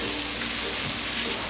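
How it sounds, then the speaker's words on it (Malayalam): Onions sautéing in a pan for pepper chicken, a steady, close sizzling hiss with no pauses across the short stretch. "ഇതിലേക്ക് ഈ എടുത്തു വെച്ചിരിക്കുന്ന സവാള ചേർത്ത് വഴറ്റി കൊടുക്കാം"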